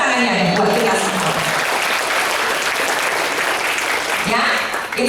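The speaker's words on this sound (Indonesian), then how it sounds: "Tepuk tangannya deh buat kita semua." Loud, sustained audience applause fills the whole stretch as a crowd claps steadily together, with a slight dip just before the end.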